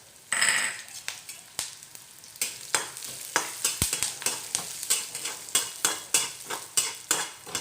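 Fenugreek and coriander seeds sizzle in a hot pan as a spoon stirs and scrapes them in regular, fairly loud strokes, with a sharp metallic clink midway, close up and without voices.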